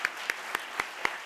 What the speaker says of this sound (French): on peut applaudir notre jury qui a donné des super prix